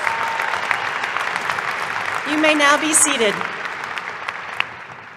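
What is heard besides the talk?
audience applause for silver graduates at commencement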